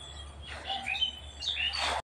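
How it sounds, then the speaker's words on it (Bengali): Several birds call in a village, with short chirps and tweets scattered across a couple of seconds over a quiet low hum, moderately near and with no one talking. "দেখো বন্ধুরা কত রকমের পাখির ডাক"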